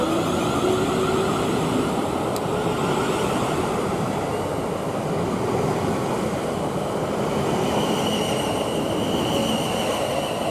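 A South Western Railway train at Basingstoke station platform, heading for Portsmouth Harbour, producing a loud, continuous rushing rumble with faint squeals and hiss, close and steady throughout without talk.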